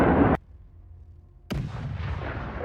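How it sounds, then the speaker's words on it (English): A HIMARS rocket launch and strike on a Russian Grad launcher, heard as a loud blast that cuts off abruptly, a short near-silent gap, then another sudden burst followed by sustained rumbling noise. "HIMARS fires the second one to strike the remaining Grad."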